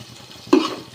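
Small and large onions sautéing in a pan for chicken biryani: a low, steady sizzle, then a sudden, louder stir-and-scrape about halfway through, close and without voices.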